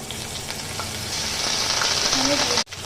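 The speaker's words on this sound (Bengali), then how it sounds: "আমি ওই তেলের মধ্যে দিয়ে দিচ্ছি আদা" Ginger goes into hot oil and sizzles continuously and loudly, close by, for a few seconds before a brief break near the end.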